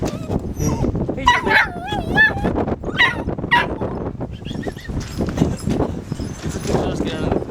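Inside a car, a dog whimpers and gives high yips in short bursts, close and fairly loud, while people talk to it.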